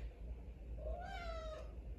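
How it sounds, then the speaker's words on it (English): Bella, a cat in a Bronx apartment, gives one faint, drawn-out meow with a rising then falling pitch over a quiet, hum-filled room. "We got a Bronx hood cat just laying there."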